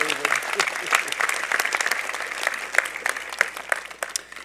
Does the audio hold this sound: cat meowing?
no